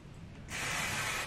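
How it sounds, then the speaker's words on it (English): A short steady aerosol hiss of Kenra dry shampoo sprayed through hair extensions bursts out after a faint moment, close and continuous for about a second, then stops. "I'm gonna take some Kenra dry shampoo and I'm gonna spray this"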